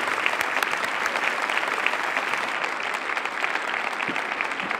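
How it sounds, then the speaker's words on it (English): Sustained audience applause at a video conference event welcoming a city mayor, a dense, even roar of many clapping hands from a large crowd, steady throughout with no speech. "Please give him a grand round of applause."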